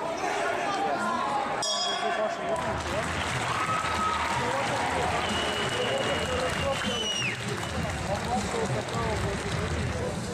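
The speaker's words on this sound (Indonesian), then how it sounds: "penonton Rusia ini memberikan tepuk tangan bagi petinjunya" A large Russian crowd at a boxing match claps and cheers continuously after a round, a dense, steady roar of applause with some chatter mixed in, filling the whole stretch.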